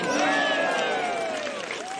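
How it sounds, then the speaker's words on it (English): Golf fans around the green at an LPGA tournament let out cheers and whoops mixed with applause. Several voices rise together, loud at first and then slowly easing off. "Always fun to hear claps at the green."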